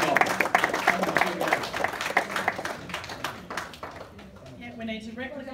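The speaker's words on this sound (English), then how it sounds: "One more applause for Colin" An audience at a lifetime achiever event applauds for guest Colin Fassnidge, with dense clapping that starts loud and gradually thins out as a voice begins speaking over the end.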